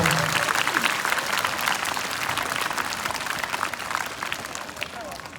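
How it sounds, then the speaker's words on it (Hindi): Schoolchildren clapping loudly together in a classroom or school gathering, a dense, energetic burst of applause that starts strong and slowly thins, with some voices mixed in. "जोरदार तालियां बजा दो भाई"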